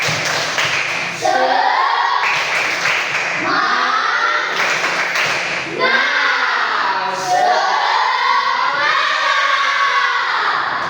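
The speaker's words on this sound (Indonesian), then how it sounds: "Tepuk semangat." A classroom group does an Indonesian 'tepuk semangat' spirit clap, clapping together in a rhythmic pattern while voices chant along in unison, loud and close.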